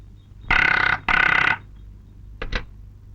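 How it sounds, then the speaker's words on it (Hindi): An old-style telephone bell rings twice in loud, rattling bursts, followed by a brief clunk as the receiver is picked up. "ठकराल, ऑफिस तुम्हारे लिए फोन है।"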